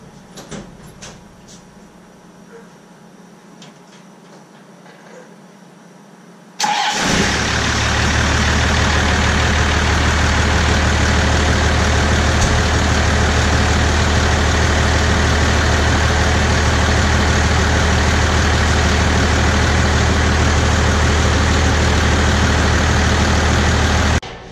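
A pickup truck fires up in a garage after a water pump replacement, the engine catching abruptly after a quiet stretch and settling into a loud, steady, low rumbling idle that continues unbroken.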